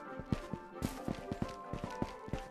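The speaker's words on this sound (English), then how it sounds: "I can hear steps." Footsteps in the VR shooter Ghost of Tabor thud in a quick, uneven series of soft impacts, fairly quiet and close, roughly a dozen steps over a couple of seconds.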